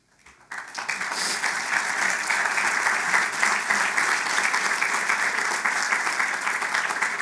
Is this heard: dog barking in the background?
no